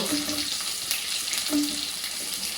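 Capsicum and onion sautéing in a pan for chilli chicken give a steady, moderately loud hiss and sizzle throughout, with a couple of brief stirring scrapes.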